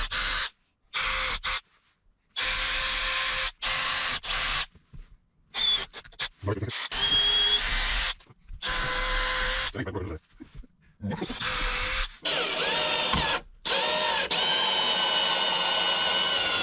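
A power drill drives screws in bursts of whirring, starting and stopping repeatedly at close range, with short pauses and speech in between.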